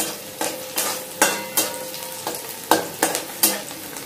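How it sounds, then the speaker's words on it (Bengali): Onion fries in a pan until turning reddish: a continuous sizzle broken by about nine sharp, regular spatula scrapes against the pan, close and clear with no voices. "পেঁয়াজটা একটু লাল করে ভাজা হয়ে যাবে"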